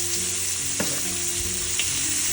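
Chopped onion and curry leaves fry loudly in hot oil, a dense, bright, continuous sizzle with a couple of brief stirring knocks, no talking.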